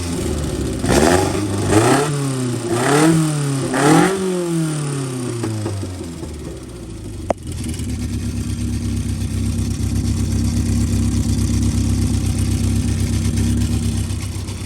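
An engine from a 998 bike, run again after its carburettor leak was fixed and the carbs tightened, gives several sharp revs that rise and fall. A click follows, then a loud, steady running drone close by.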